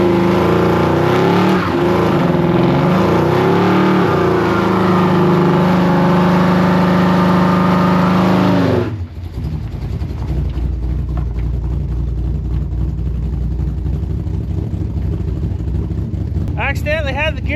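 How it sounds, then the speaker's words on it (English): A truck with an overdrive unit does a burnout, its engine roaring and revving loudly with shifting tones for several seconds before dropping to a rough idle rumble. "it didn't seem right to park something for the year without doing a burnout"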